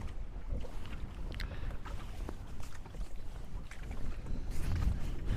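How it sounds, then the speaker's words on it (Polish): Strong cold wind gusting outdoors at a feeder fishing competition, a continuous low buffeting roar hitting the microphone, swelling louder toward the end, with no voices. "No bo wiatr, wiatr jest niemiłosierny i no jest zimno."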